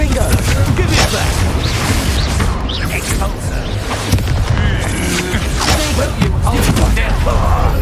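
Confringo blasting spell explosions during a duel in Hogwarts Legacy, with repeated booming bursts and crackling impacts amid a busy combat mix while voices shout spells throughout.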